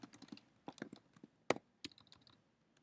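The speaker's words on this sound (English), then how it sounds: "I'm just going to type in the answer here" Keys on a computer keyboard are tapped in short irregular bursts, close and fairly quiet, with one sharper clack standing out midway and pauses between keystrokes.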